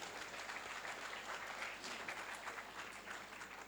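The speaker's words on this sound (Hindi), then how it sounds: "अक्षय भाई के लिए भी तालियों से आप बुलाइएगा।" An audience applauds to welcome a speaker onto the stage at a gathering, a steady wash of clapping heard faintly and from a distance, without pause for the whole moment.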